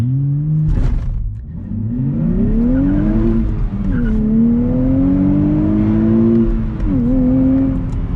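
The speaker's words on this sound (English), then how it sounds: "We're gonna do launch control. So clutch in, pedal to the floor." A 2023 Nissan Z with a manual gearbox launches from a standstill under launch control, its engine held at high revs before climbing through the gears in long rising pulls with brief dips at each shift, loud and close from inside the car.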